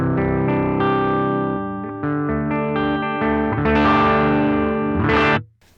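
Bass guitar through a Boss FBM-1 '59 Bassman pedal with the midrange cut, giving a scooped, gritty tone; a melodic line of sustained and moving notes plays loud and up front, then stops abruptly.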